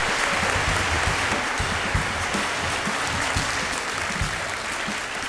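An audience welcoming Professor Ilan Pappé with sustained, dense applause that fills the room evenly from start to finish, loud and close, with no speech over it.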